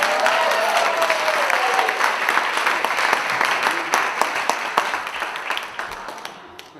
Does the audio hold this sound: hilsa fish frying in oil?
no